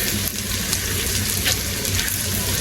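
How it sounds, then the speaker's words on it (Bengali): Close, steady sizzle and crackle of garlic and cumin paste frying in hot oil, a dense hiss that keeps going without pause. "এখন আমি দিয়ে দিব রসুন আর জিরা বাটাটা এটা দিয়া এই মশলাটা একটু তেলে বাইজা নিব"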